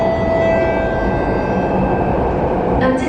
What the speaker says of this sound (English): The last train to Jurong East via Woodlands is arriving.